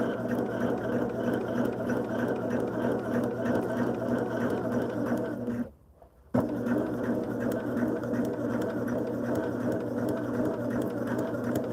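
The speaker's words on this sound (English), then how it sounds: "Turn it over and we're going to sew on the line." A sewing machine stitches pieces of a modern sampler quilt block along a marked line, a steady close mechanical whir that stops briefly about halfway through and then resumes.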